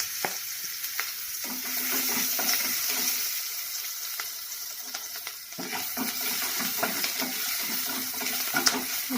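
Green chili and garlic paste sizzling in a frying pan while cooking palak paneer, a steady close crackling hiss broken by scraping stirs and occasional sharp clinks, with no talking.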